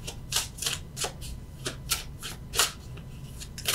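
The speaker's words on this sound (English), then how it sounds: "let's get one extra card for the general" Tarot cards being shuffled and drawn from a deck, a series of soft, papery riffles and flicks in an irregular rhythm, close and fairly quiet with no talk.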